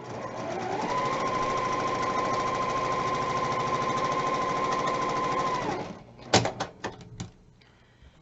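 A sewing machine runs steadily for about six seconds, stitching quilt fabric along a drawn line with a close, even mechanical whir, then stops, followed by a few soft clicks and handling knocks.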